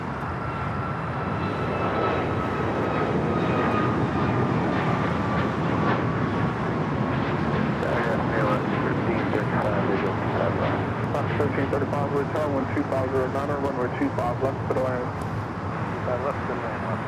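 A sports charter jet takes off from the south side of LAX, a loud continuous roar of jet engines under radio chatter and talking throughout.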